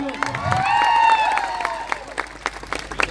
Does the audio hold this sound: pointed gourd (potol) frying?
no